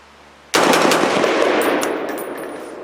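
A Brownell's BRN-10 rifle fed from a C Products steel magazine fires a burst of rapid shots, loud and close, the reports blending into a sustained roar that fades slowly.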